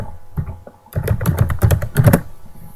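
Typing on a computer keyboard to enter a software name in a search, with a short tap or two followed by a quick run of clustered keystrokes, close and fairly loud.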